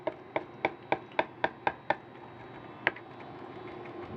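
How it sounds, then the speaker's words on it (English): Vegetables being rough-chopped with a knife on a board at a cooking workshop: eight crisp, evenly paced chops in quick succession, then a pause and one last chop, close and clear with no talking. "When I'm rough chopping, I keep bringing it back together so I can get an even cut."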